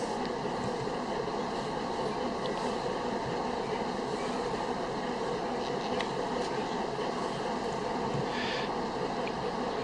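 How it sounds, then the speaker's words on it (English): Tugboat engine heard from inside the pilot house while underway, a faint, steady low drone with a countable beat under a constant hum. "Just enough engine noise to let you know it's running, and you can count the beat of the engine"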